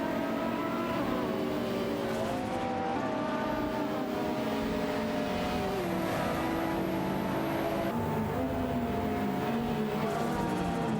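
Lamborghini Diablo VTR and GTR race cars in an AI racing video game, several engines whining and shifting together at high revs, a loud steady drone with pitch rising and dropping through gear changes and no talk over it.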